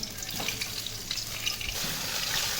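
Cumin seeds sizzling in hot oil for a Punjabi stuffed tinda curry, giving a steady, fairly soft crackle and hiss that lasts the whole time with no voices.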